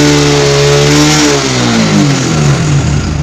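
Honda Supra X 125 fuel-injected motorcycle engine revving hard and loud up close, pitch climbing and wavering as the throttle is held, with no voices.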